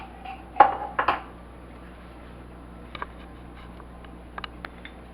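Rice pudding ingredients are stirred in a dish: a few sharp clinks of a utensil against the dish, then scattered quieter taps, faint and close, with no talking.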